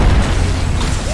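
Grenades burst in an Apex Legends firefight, a heavy low boom opening the moment and rumbling on beneath the shooter's noise, loud and close with little talk.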